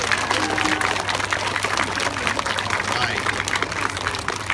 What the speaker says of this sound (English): Can we get one more round of applause for our two firefighters here?